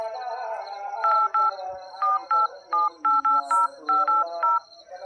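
A telephone keypad beeps out a quick series of about a dozen dual-tone dialing presses in uneven bursts, clear and close with a quiet hum beneath.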